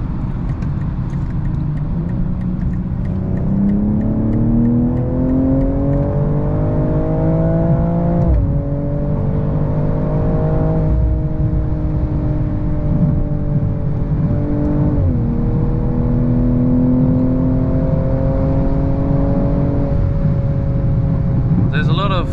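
A 2022 BMW M240i engine revs hard under full throttle, pitch climbing steadily through several gear changes, loud and close the whole time.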